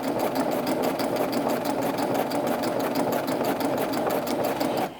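Sewing machine running steadily and slowly as it stitches gathered fabric for a ruffled skirt, a continuous close, even whir for about five seconds that stops abruptly at the end, with no talking.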